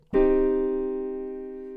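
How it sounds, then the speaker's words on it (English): A piano minor chord sounded once, bright attack followed by a long sustained ring that gradually decays, with nothing else around it. "Here's the sound of a minor chord."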